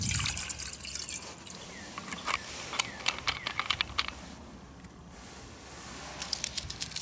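Water poured into a lightweight Toaks 1.6-litre titanium pot for cooking rice, a close trickle and patter of dripping, splashing liquid with a brief lull before it resumes near the end.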